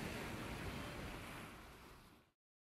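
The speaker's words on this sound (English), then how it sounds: "that ever-present metronome, the rhythmic, soothing waves, reminding me to slow down" Ocean waves wash onto a beach in a continuous soft broadband rush that tapers off and stops abruptly after about two seconds, with no talking.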